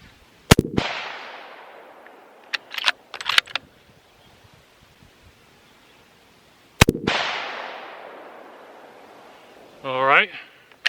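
A 22-250 rifle loaded with 55 grain Hornady VMAX rounds fires at a target 100 yards away: two loud, sharp shots several seconds apart, each trailing off in a long echoing decay, with a few brief mechanical clicks between them.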